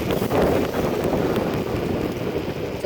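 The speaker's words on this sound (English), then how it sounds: "It's really windy today." Strong gusty wind buffets the microphone outdoors on a bike ride, a continuous loud rushing roar with no clear voices.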